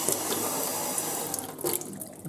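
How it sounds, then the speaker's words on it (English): Cold water pours from a tap into a replumbed sink in an old French house, a steady close splashing flow with a brief surge near the end and no voices. "cold water running as well."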